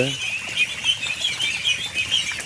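A large flock of newly introduced village ducks flapping and pattering as they go into water, a busy close flutter of wings with soft splashes and rising and falling bursts.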